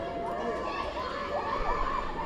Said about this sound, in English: Got a loud crowd here cheering on the Rosemount swimmers.